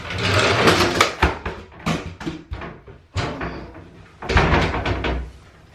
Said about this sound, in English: There's a door.